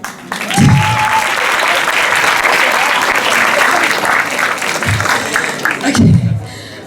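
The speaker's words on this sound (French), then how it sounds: "Un petit applaudissement." A large audience applauds at a conference closing ceremony, a dense, steady wash of clapping lasting several seconds, with brief voices at the start and end.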